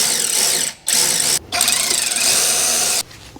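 A ratchet wrench clicks loud and close while tightening the rear brake caliper bolts on a 2003–2011 Honda Element, in three sustained bursts of rapid ratcheting separated by short pauses.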